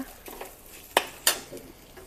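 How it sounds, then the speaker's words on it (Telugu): Rice is stirred in a pan for rajula uppindi, giving soft scraping and a couple of sharp clinks of a spoon against the pan among faint sizzling, with no talk. "ఈ రైస్ వేసేయాలి ఈ రైస్ని కొంచెం అటు ఇటు వేగాక"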